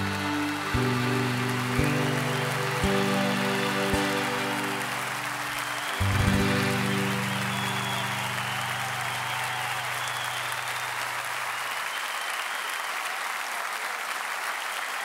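Concert crowd applause in a large arena after a band's song, dense clapping throughout while sustained music chords ring out and fade beneath it, leaving the clapping alone near the end.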